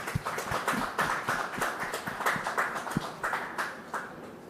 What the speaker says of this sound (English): A big round of applause for Sachin